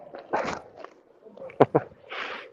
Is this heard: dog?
yes